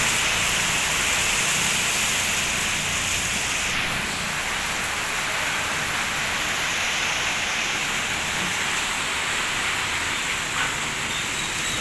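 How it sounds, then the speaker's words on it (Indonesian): Heavy rain pours down during a storm in Bogor, drumming hard on an asbestos-sheet roof. The roar is dense, steady and close, and it continues without a break throughout. "Hujan badai."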